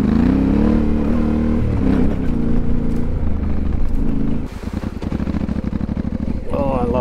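A Yamaha Tenere 700 motorcycle engine pulls hard in third gear on a trail in Greece, a loud, close, continuous droning roar that rises and shifts pitch, with wind and rattling over it.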